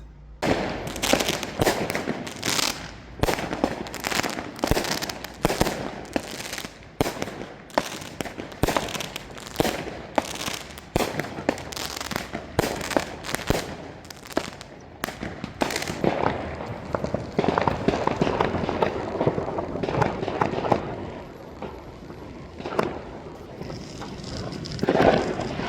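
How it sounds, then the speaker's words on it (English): Fourth of July fireworks and firecrackers going off all around, a long irregular barrage of sharp cracks and pops, some near and loud, others farther off, with denser rumbling stretches and no talking over them. "There are fireworks just everywhere. It's like, can you hear them all?"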